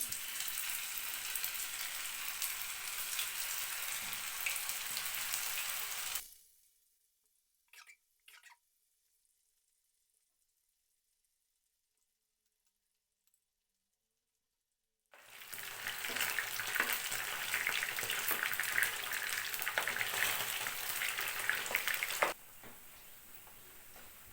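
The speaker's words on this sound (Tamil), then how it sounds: "இப்போ நம்ம பன்னீரை ஃப்ரை பண்ணலாம் அதுக்கு நான் கொஞ்சமாக எண்ணெய் ஊற்றிருக்கேன்" Paneer fries in a little oil in a nonstick pan with a bright, steady sizzle, which cuts off to near silence for several seconds before the sizzling resumes; no voices.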